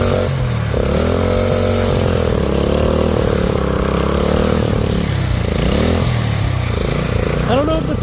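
Small engine on a homemade drift trike revving up and down loudly and continuously, a close, buzzing motor sound with shifting pitch; speech-like overlap suggests a person talking over it.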